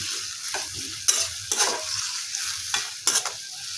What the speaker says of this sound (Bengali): পেঁয়াজটাকে তেলের মধ্যে ভালো করে ভেজে নিচ্ছি